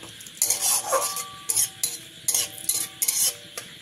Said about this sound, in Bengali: দিয়ে দেবো 1 চামচ কসুরি মেথি পাতা, দিয়ে এবারে হালকা ভেজে নিতে হবে।